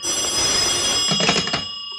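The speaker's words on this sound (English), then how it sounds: "Right, there's the phone." An old telephone bell rings in a 1952 radio drama, a sustained metallic trill with rapid pulsing near the end before it cuts off, loud and alone with no talk.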